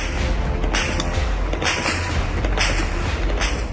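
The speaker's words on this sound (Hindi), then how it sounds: "वेस्ट बैंक के नूर शम्स कैंप में क्या चल रहा है, गोलियों की आवाज से अंदाजा हो रहा है" Gunfire in the Nur Shams refugee camp in the West Bank comes through as several sharp cracks spaced a second or so apart, each trailing off under a steady low rumble and constant background noise.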